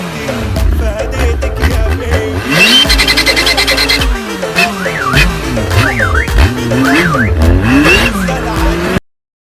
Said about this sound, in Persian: عنصر بعدی صدای این موتور که شاید اکثر شماها به خاطر صداش این موتور را خریدین